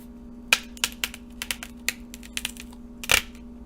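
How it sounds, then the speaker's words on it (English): A fresh celery stalk is broken off and torn from the bunch, giving a run of crisp, close snapping cracks and fibrous clicks, with two sharper loud snaps among smaller crackles. "let's break off a stalk. I bet this will have a very satisfying tearing sound."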